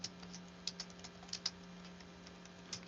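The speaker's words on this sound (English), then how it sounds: "That's a question I'm typing in the chat." Keys on a computer keyboard are typed in short, irregular clicks over a quiet steady hum. The tapping is faint and close, with no voices.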